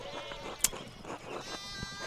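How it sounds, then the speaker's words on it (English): Sheep bleat in the medieval adventure game Pentiment, a few short wavering calls heard close over a quiet game soundscape. "we need to get these sheep under control"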